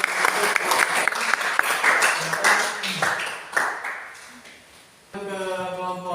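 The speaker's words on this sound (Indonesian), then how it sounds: "Ya, tepuk tangan." Audience applause fills the room, dense and steady clapping that swells and fades, dropping away near the end as a voice begins speaking.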